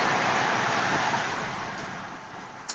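Steady broadband road and wind roar from a car travelling at speed with its windows closed, a constant close rushing noise that eases slightly over a few seconds, with a brief higher blip near the end and no talk.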